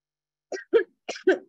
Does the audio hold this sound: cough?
yes